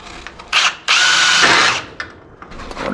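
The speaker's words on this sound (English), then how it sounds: "So I'm going to drill a hole" A power drill whirs in a short burst while drilling a hole in a VW Baja Bug, then runs loud and steady for about a second before winding down, with a few clicks and clunks around it.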